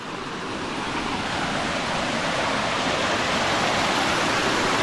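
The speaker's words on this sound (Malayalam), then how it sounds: "ആ കാട്ടിൽ നിന്ന് വരുന്ന അരുവിയാണേ" A forest stream rushes steadily through the whole clip, a dense broadband wash that swells slightly at the start and then holds constant, close and loud.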